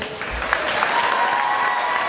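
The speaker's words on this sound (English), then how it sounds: "Let's have one more applause for our seniors." A stadium crowd at a high school homecoming football game claps for the seniors, a steady wash of applause with faint voices underneath.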